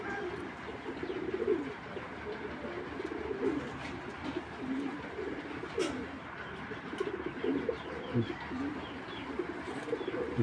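A male Belgian black checker racing pigeon coos in soft, repeated throaty bursts, fairly quiet and close, over low background noise.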